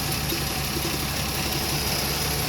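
An old car's engine idles steadily after starting, giving a continuous, even rumble close by for the whole stretch, with no talking.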